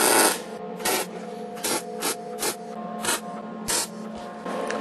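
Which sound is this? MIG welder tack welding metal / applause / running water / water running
MIG welder tack welding metal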